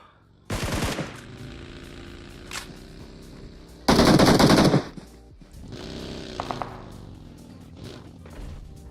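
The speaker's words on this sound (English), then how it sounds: "Inactive taking shots uphill towards Chico." Gunfire in PUBG Mobile during a competitive esports match: several loud, dense bursts of automatic fire, one long heavy burst near the middle, with fainter distant shots between them and a commentator's voice underneath.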